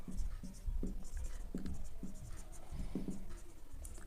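Pen writing on paper while working out a one-dimensional heat equation, with steady scratchy strokes in short bursts throughout, fairly close and moderate in level.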